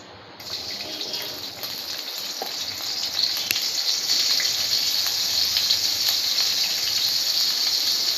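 Onion paste sizzling in hot oil with a bay leaf for a potato curry, a steady hissing fry that starts abruptly and swells slightly louder, continuous and close with no talk.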